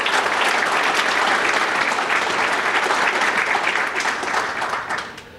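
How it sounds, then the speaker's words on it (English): Steady, dense applause fills the room at a city State of the City address, many hands clapping together before it thins and tapers off at the end. "would you join me and give me a great big round of applause to the Southgate Rotary for sponsoring this event."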